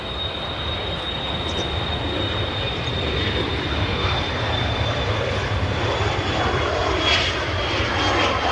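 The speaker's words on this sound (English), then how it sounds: "There's also a British Airways A319 from London Heathrow on the way in." A British Airways A319 jet arriving at Manchester Airport roars steadily as it passes, a broad continuous engine rush with a faint high whine, moderately distant and sustained, without talk.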